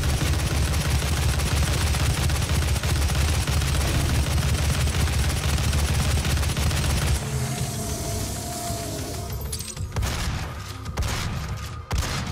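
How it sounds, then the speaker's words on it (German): Dense, continuous gunfire in the video game DOOM (2016) roars for several seconds, then thins into scattered shots and mechanical clatter toward the end. "Drei Schüsse, die daneben gehen."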